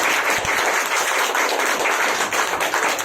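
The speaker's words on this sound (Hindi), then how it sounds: "आइए हम उस प्रभु के लिए जोरदार ताली दें।" A church congregation applauds loudly, many hands clapping in a dense, continuous wash for about three seconds, fairly close and steady.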